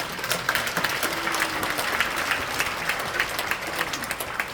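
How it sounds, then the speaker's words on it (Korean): A congregation at a Korean church Easter prayer service breaks into sustained applause, dense and even clapping spread across a large room, filling the space with no speech over it. "하나님께 영광과 감사로 박수로 한번 하겠습니다"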